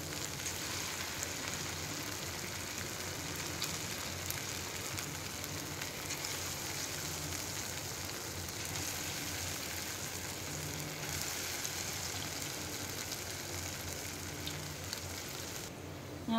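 Small rice-flour pakoras drop into hot oil and fry with a steady, dense sizzle, a continuous crackling hiss that holds even and close throughout with no voices over it.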